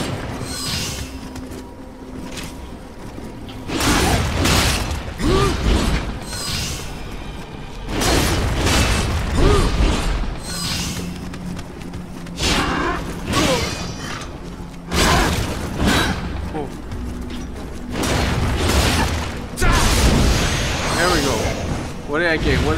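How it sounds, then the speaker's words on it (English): Bombs and heavy impacts burst repeatedly in the action game Nioh, loud crashing booms and shattering hits arriving in clusters alongside clanking combat noise over a long stretch. "he just threw a fucking bomb at me"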